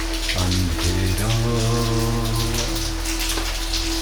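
Rain falls in a constant close hiss of drops, partly covered by a shifting low harmonic drone that swells and fades over the downpour.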